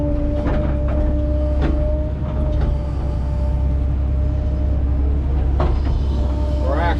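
A steady diesel drone from an ASV 100 compact track loader digging out a basement, a continuous close rumble with a constant hum and occasional clanks and squeaks over it.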